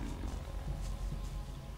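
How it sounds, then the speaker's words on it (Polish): A wolf in the video game Risen growls in a low, rough, continuous rumble that stays close and steady for about two seconds, with no speech over it. "Gdzieś tu wilka słyszę."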